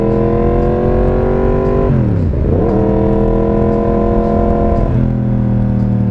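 Yamaha MT-10 motorcycle engine revving loudly and close, a sustained multi-cylinder drone that dips sharply and climbs back once, then drops to a steadier lower pitch near the end, with no talking.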